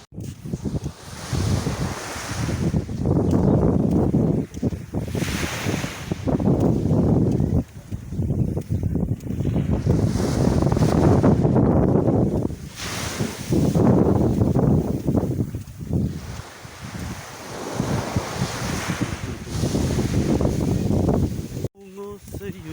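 Calm sea on a sandy beach in morning wind: soft surf washes in and recedes in slow surges, heavily mixed with gusty wind buffeting the microphone, near and fairly loud, with faint talk in places.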